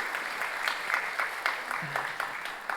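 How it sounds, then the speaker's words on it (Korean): A church congregation applauds its worship team, the clapping soft and somewhat distant, falling into a loose, pulsing rhythm that keeps a steady, even level. "박수로 한번 크게 격려하십시오"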